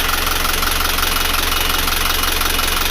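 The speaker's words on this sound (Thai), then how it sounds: "เครื่องนิ่งดีครับ" A 29-seat air-conditioned bus engine idles in a steady, loud, close diesel rumble with a fast even knock and vibration throughout.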